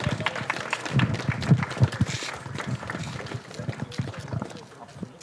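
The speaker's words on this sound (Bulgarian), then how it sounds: "Аплодисменти за тях." Scattered applause from a small crowd at the ribbon-cutting opening of new tennis courts, irregular claps close by that fade slightly toward the end, with murmured voices around.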